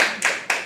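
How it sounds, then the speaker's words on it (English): An open-mic poetry audience claps in a practice cheer: a loose burst of handclaps, then a second brief flurry about a quarter second later, close and fairly loud in a small room. "can we just practice like cheering, clapping once?"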